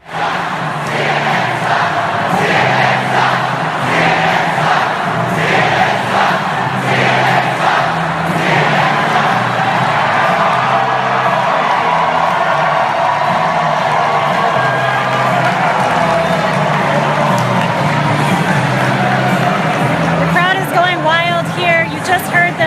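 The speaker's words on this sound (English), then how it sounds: "Chanting CNN sucks about 10 minutes ago." Large crowd at a Trump election rally chanting in rhythmic, repeated bursts, loud and sustained, with a dense roar of voices throughout and brief cheering near the end.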